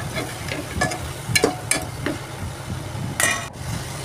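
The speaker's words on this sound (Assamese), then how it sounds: "এতিয়া খৰিচাখিনিৰ লগত অকণমান আৰু অলপ ভাজি ল'ম ধুনীয়াকৈ।" Pork with khorisa (bamboo shoot) frying in a pan, giving a steady close sizzle with a few brief stirring scrapes and clatters over it.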